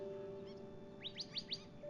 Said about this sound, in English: You're here listening to the sounds of the birds and near nature.